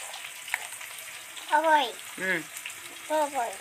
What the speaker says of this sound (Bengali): পেঁয়াজটা একটু ভেজে নাও